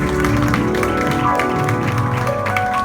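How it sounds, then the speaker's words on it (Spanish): A church congregation gives a short burst of rapid, dense clapping that fills the room steadily for a few seconds. "Da un fuerte aplauso al Señor."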